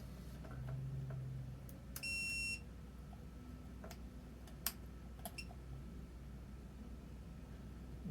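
A multimeter set to diode test on a circuit board with a blown high-side switch gives a short electronic beep about two seconds in, with faint ticks and clicks over a steady low hum. No one speaks.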